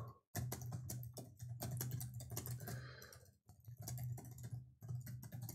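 Fast typing on a new computer keyboard: dense, rapid key clatter in quick bursts with brief pauses, close and crisp, no talking.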